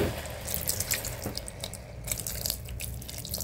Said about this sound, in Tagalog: Maglalagay tayo ng tubig para lumambot ang baboy at ang langka.